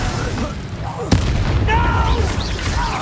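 A fire spell cast in the video game Hogwarts Legacy: one sharp, loud burst just past the middle, rising out of steady game music and combat noise.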